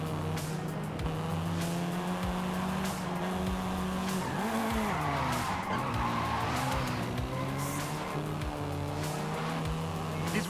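A seventh-generation Volkswagen Golf R in Forza Horizon 5 roars with its engine revving and shifting, its tires squealing in long skids, loud and close.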